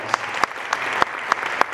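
At a school parent meeting, an audience claps in praise of a choir program teacher. The applause is steady and moderately loud, with a few sharper claps standing out at regular intervals.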